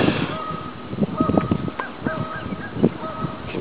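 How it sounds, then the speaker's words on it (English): Geese honk repeatedly in a noisy outdoor scene, several calls overlapping at moderate distance amid background rustle. "Can hear the geese getting pretty loud over there"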